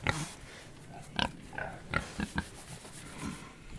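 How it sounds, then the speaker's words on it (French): Pigs and young piglets on a farm give soft, short grunts and snorts at irregular intervals, fairly close and quiet, with occasional rustling and rubbing noises. "Coucou les cochons."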